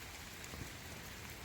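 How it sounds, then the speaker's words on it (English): A light rain shower falls steadily over a driveway, giving a constant close hiss of drops that keeps the same level throughout, with no voices. "even with that little bit of a light shower"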